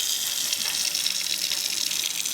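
Water gushes steadily from a tap inside an RV, a close, continuous hiss and splash as the flow comes back after running out.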